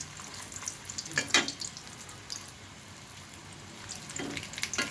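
A Mughlai paratha made with egg fries in a small wok, giving a faint, steady sizzle with a few brief scraping and clinking bursts as it is shifted, quiet and without speech.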